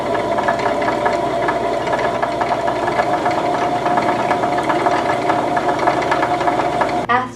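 A sewing machine winds a bobbin with a steady, loud mechanical whir and rattling hum, driven continuously by the foot pedal, before stopping abruptly at the end.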